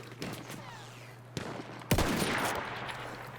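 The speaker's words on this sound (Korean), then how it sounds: "저기서 막 쏜다?" Gunfire in the battlefield shooter Battlefield 1: scattered shots in a noisy combat scene, with two sharp, loud reports standing out over rumbling background ambience.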